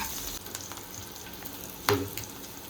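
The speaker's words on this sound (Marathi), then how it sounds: "आता या मिरच्या पण थोड्याशा आपल्याला तळून घेतल्यानंतर" Chilies fry in hot oil with a soft, steady sizzle and crackle, close up, punctuated by one sharp stirring clink partway through.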